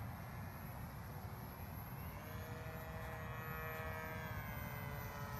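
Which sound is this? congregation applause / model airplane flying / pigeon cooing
model airplane flying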